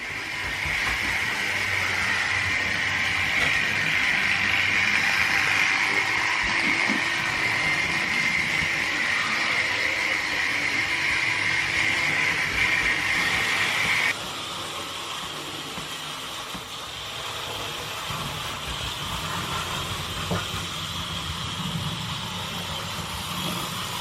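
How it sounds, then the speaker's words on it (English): A Hornby HO/OO model train runs along its track, a steady mechanical whir and hiss with no talking; the tone drops and quiets abruptly partway through, then carries on more softly. "It's probably running a little bit too fast anyhow. So anyhow, as I say, that's the second set of Hornby trains that I've got."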